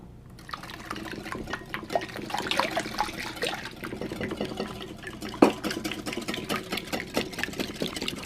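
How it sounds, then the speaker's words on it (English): Fresh milk pours into a mango float flan mixture, a steady liquid stream running for several seconds at close range with a few small clinks along the way. "We're gonna add our fresh milk"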